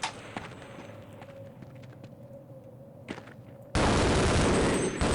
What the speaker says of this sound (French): Ok, c'est une tourelle.